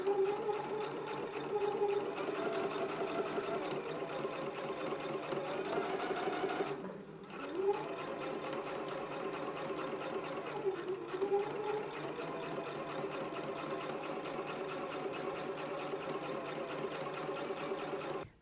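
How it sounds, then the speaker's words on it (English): A sewing machine fitted with a walking foot stitches knit dress fabric, whirring steadily up close with a brief pause midway before resuming its even, rhythmic hum. "So I am using a walking foot while I am sewing."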